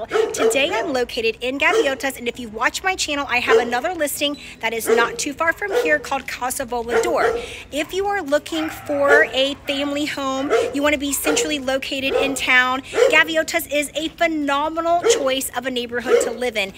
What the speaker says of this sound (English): Obviously, you can hear a dog barking right next door